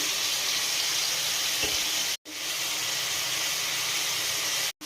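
Taro curry fries in hot oil, a steady hiss and sizzle that continues evenly, broken by two brief total dropouts, with no talking.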